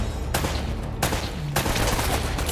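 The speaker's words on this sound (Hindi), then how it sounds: "सारी गोलियां इसी पे वेस्ट कर ली मैंने." Gunfire in the video game Uncharted: Drake's Fortune, heard as loud, close bursts of shots in three separate clusters with short pauses between them, dense and punchy, with no talking over the shooting.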